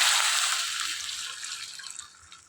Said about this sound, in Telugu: ఇందులో లోటా నీళ్ళు వేసుకోవాలి